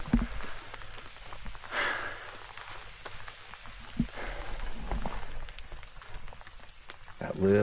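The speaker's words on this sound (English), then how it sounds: "it's nice and rainy and stormy" Soft rain patters steadily on a surface in the mountains near an abandoned mine, fairly quiet, with a few louder bursts and splashes now and then.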